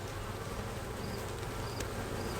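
Honeybees hum steadily in an opened, docile hive during a brood frame inspection, a dense continuous buzz close by with no talking.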